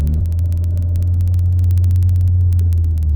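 An Acura RSX DC5 cruises along with a steady low engine drone and road rumble, close and even throughout, with a faint rhythmic ticking above it and no voices.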